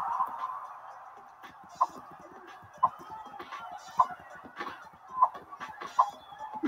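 A fowl, most likely a chicken, clucks in the background as a game of basketball plays. There are sharp, repeated clucks roughly every second over a murky bed of background sound.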